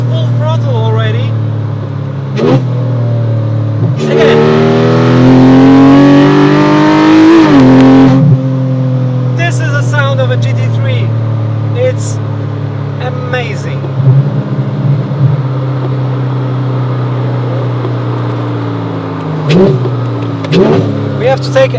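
Porsche Cayman GT3 with a PDK dual-clutch gearbox, its engine rising to a loud full-throttle howl for a few seconds, then dropping back to a steady cruising drone with brief blips.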